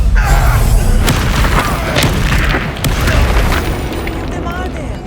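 A Confringo fire spell explodes in Hogwarts Legacy as a loud, booming blast with rumbling crackle, heavy and close amid surrounding game noise.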